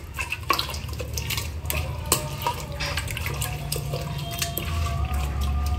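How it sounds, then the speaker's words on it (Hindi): Water runs and splashes steadily into a metal pressure cooker for several seconds while cooking Hyderabadi mutton mahi khalya, with a few clinks of utensils nearby, no talking. "इसमें मैं 1/4 कप के जितना पानी डाल दूंगी"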